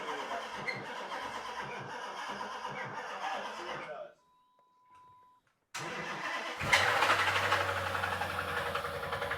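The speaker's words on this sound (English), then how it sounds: "That's a rod bearing. That's a bad noise." A 2009 Dodge Challenger SRT8 V8 with a bad rod bearing cranks and fires up after a brief silence, settling into a loud rough idle with a heavy knocking undertone.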